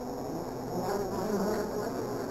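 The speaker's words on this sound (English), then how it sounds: "That does sound like bees." Bees buzz in the Home Safety Hotline video game, a dense continuous insect drone holding steady and fairly loud, with no talking over it.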